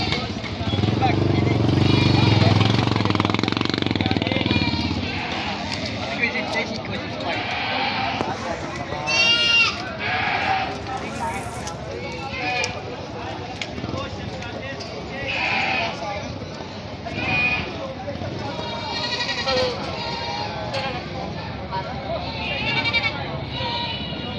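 Goats bleat repeatedly amid a busy crowd at a livestock auction market in Padre Garcia, with people chattering throughout and a low rumble at the start.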